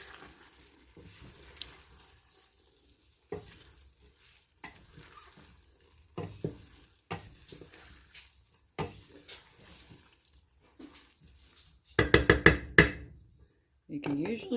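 Onions, green peppers and garlic stirred into a hot pan with ground beef for three bean chili, giving intermittent scraping bursts and a louder sizzling flurry near the end, with a voice speaking between stirs.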